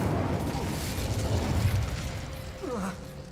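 Incendio fire spell cast in Hogwarts Legacy, a rumbling fiery burst with rolling low booms and a short descending whoosh near the end, with a voice speaking faintly around it.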